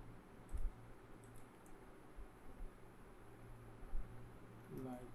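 Keys clatter on a computer keyboard in a quiet room, brief irregular bursts of light clicks spread across the clip, soft and close, with no speech over them.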